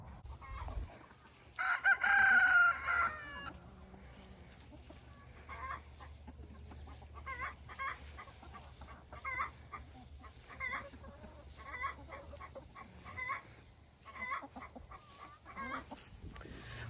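A rooster crows loudly near the start, followed by steady clucking and chatter from a flock of chickens.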